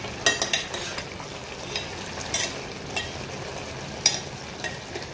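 A pan of nine mixed vegetables for a Navratri fasting dish cooks on a low flame, giving a soft continuous sizzle, close up, broken by occasional clinks and scrapes of a spoon stirring.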